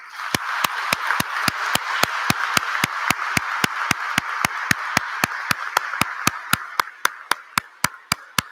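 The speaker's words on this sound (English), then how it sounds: "let's give them one last round of applause" A steady, evenly spaced clap rings out about three times a second at a police recruit attestation, sharp and rhythmic over a soft wash of crowd noise, like a unified slow handclap rather than scattered applause.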